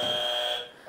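A quiz-show buzzer being tested in a French-language studio sounds as a steady electronic tone, loud and sustained for about half a second before cutting off.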